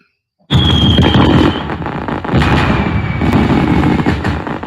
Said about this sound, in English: Fireworks as usual when we come to the show.